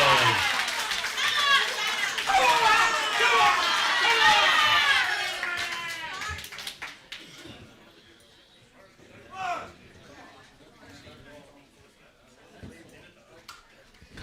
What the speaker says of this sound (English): You can hear the crowd locally saying we needed that